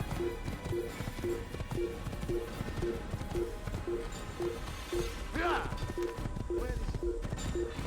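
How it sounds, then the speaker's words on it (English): Horse galloping alone in Assassin's Creed, a steady rhythmic clip-clop of hooves repeating about twice a second, fairly loud, with a brief whinny midway and game ambience underneath. "É só um cavalo correndo sozinho."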